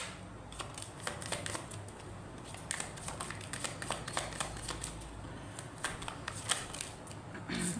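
Tarot cards being shuffled by hand in a quiet room, a continuous soft riffling with dense crisp flicks and snaps running steadily throughout at close range.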